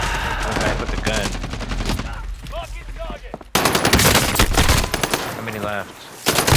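Call of Duty Warzone gunfire from a video game: dense, rapid automatic bursts that run almost continuously, loud and close, with players talking over the shooting.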